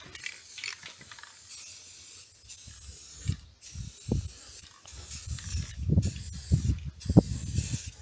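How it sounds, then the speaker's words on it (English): Bursts of hissing aerosol spray come in short repeated blasts, with mechanical clicks and low rumbling handling noises in between. "We're doing the spray painting now."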